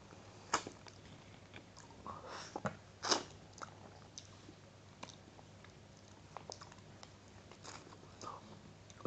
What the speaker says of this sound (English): to lick it or wait that it melts and eat it? It's like ice cream. It's hard.